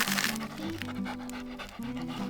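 Dog panting close by, rapid rhythmic breaths running steadily through the whole short stretch, loud and unbroken, outdoors near a river.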